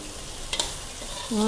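Sweet leaf vegetable with egg, glass noodles and dried shrimp stir-fried over the highest flame as the oil dries out: a soft sizzle, one quick spatula scrape, then a rising tonal whine at the end.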